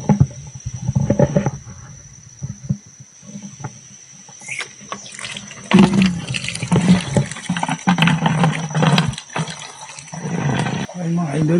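A sink faucet at a valley campsite near Mount Banahaw, Dolores, Quezon runs strongly, a splashing stream of water under intermittent talk and handling noises.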